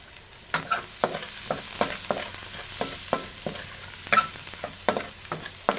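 Garlic frying in a pan for spaghetti and meatballs, with a steady sizzle under repeated sharp scrapes and clinks as it is stirred roughly every half second, close and fairly loud.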